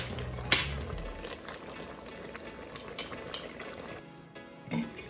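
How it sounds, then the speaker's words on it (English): Pot of Southern-style mixed turnip and mustard greens simmering with added sugar over lowered heat, giving soft bubbling and faint liquid crackle, with a clank of metal near the start and another near the end. "We'll let this simmer for another 10 minutes and our greens will be ready."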